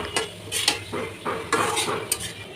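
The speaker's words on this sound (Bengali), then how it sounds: "আমি এখানে মাছটা দিয়ে দিলাম কারণ আমি মশলার ভিতর মাছটা কষিয়ে নেব ভালো করে নেড়ে চেড়ে এটাকে কষিয়ে নিচ্ছি" Fish is stirred into spice masala in a pan: a metal spatula scrapes and knocks against the pan in irregular strokes, close up, over a light sizzle, with no talking.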